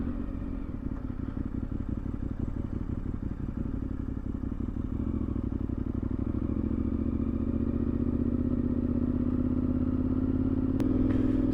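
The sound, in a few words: dirt bike riding along a bush route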